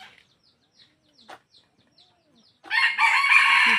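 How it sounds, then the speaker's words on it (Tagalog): A small rooster crows loudly and close by, preceded by faint scattered chirps and clucks in near silence, the crow swelling abruptly and holding steady to the end. "Babago na naman magtilaok yan."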